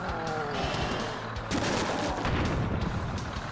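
Barrel explosions and gunfire-like bursts from the video game Earn to Die, a dense run of loud booms and crackling blasts over a constant engine-like rumble, with a heavier burst midway.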